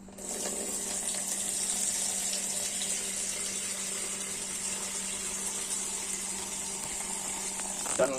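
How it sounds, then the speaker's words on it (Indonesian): Water runs steadily from a tap into a container of soybeans being washed for tempeh, a continuous close hiss lasting several seconds with no talk. "dan kita masukkan lagi air"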